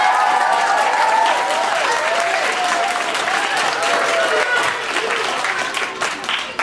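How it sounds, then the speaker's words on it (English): An audience at a school DARE graduation gives teachers and principals a loud, sustained round of applause, with crowd cheering mixed in that tapers slightly toward the end. "give our teachers and principals a loud round of applause here"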